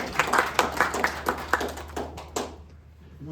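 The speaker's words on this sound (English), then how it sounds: "Thank you, Leah. You can clap." Mourners at a celebration of life give a short burst of clapping, a few distinct hand claps in an uneven rhythm that thin out and stop, leaving a quiet room.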